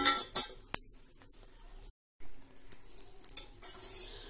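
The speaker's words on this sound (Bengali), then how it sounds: "আমার মশলাটা ভাজা হয়ে গেছে" Spices dry-roasting in a pan on a gas stove are stirred, giving close scraping and light crackling strokes with a few sharper clinks and a brief dead-silent gap midway.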